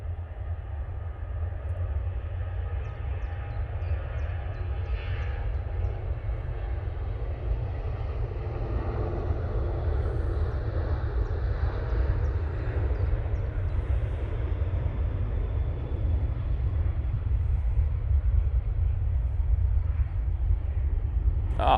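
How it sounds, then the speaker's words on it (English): A Ryanair airliner rolls for takeoff at Manchester Airport in low visibility, its engines a steady, distant roar that swells gently and holds without a break. "Ryanair, now on the roll."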